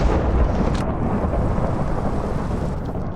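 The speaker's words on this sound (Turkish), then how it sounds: "Yıldırım çarp." Thunder from a lightning strike in the Minecraft Crazy Craft 2.0 mod: a loud rolling crack that booms at once and then rumbles on steadily with a rain-like hiss, without any voices.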